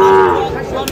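A cow, likely a Sahiwal bull calf, lets out a loud, close moo at a crowded cattle market, the drawn-out call fading as background voices and market noise continue.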